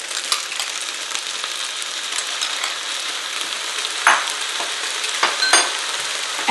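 Vermicelli pancit with bacon sizzles steadily in a hot pan after soy sauce is added, a constant bright crackle broken by a few sharper clinks and scrapes of stirring near the end.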